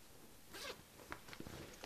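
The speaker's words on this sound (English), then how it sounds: "in this zip compartment here" Zipper on a compartment of a LowePro 302AW Slingshot camera bag, pulled in a short rasping stroke followed by a few quick faint tugs, close but quiet.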